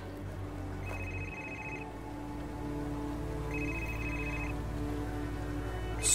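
A telephone rings at night in a house, sounding two repeated electronic ring bursts, faint over a steady background hum and drone.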